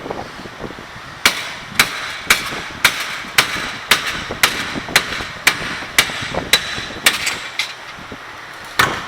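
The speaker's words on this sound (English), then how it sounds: "Take your hammer." Steady metal-on-metal hammer blows knock a front wheel bearing out of a Toyota RAV4, about fifteen sharp, close strikes in a fairly even rhythm with no talking.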